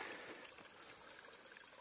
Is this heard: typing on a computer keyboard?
no